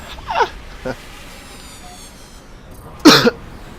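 A person's laugh turns into a cough: a couple of quick breathy bursts, then one sharper, louder cough-like burst close up, over a quiet background.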